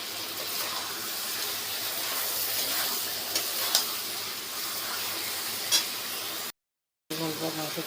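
Meat sautés in a pan with ground cumin, coriander and Kashmiri chili powder, a steady close sizzle with a few brief clinks. It cuts out for a moment near the end, then faint movement and voice-like sounds follow.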